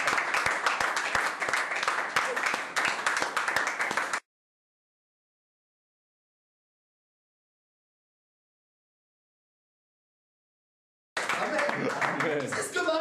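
A church congregation applauding at a service, a dense burst of clapping for about four seconds that cuts to silence, then returns near the end, mixed with voices.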